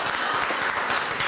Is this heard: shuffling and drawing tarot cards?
no